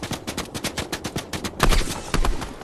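Enemy gunfire in Fortnite, heard as a loud, continuous stream of rapid automatic shots that hammer on without a break and grow heavier toward the end, with no talk over it.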